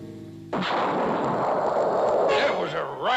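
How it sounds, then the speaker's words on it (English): A cartoon explosion bursts in suddenly after a brief lull, then a loud sustained roar and crackle holds before fading under warbling tonal sounds near the end. "That was a right smart explosion."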